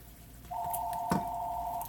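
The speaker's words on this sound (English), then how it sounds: "there goes the phone" A telephone rings in a home kitchen during Sunday dinner cooking: one sustained electronic tone lasting over a second, with a small wet drip-like click partway through and no speech.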